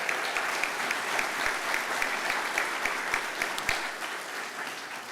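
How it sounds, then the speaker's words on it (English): Applause from an audience at a town hall: a steady, moderately close wash of clapping that holds evenly for several seconds before thinning slightly at the end. "let's give him a round of applause"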